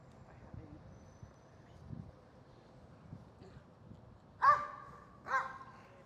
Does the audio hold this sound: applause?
no